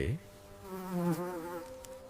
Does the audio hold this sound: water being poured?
no